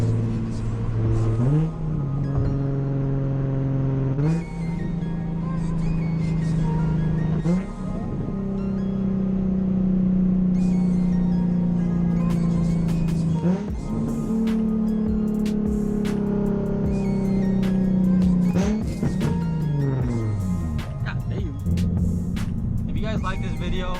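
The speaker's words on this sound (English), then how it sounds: "Watch these downshifts right now." Nissan 350z with a loud aftermarket exhaust, a steady droning engine note that jumps in pitch several times as it downshifts, each rev blip followed by a settling tone, loud and close from inside the car.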